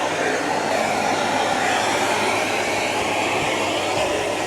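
Miele Guard M1 vacuum cleaner with a Parquet Twister XL nozzle running on a floor, a steady loud whooshing roar that holds unbroken with no talk.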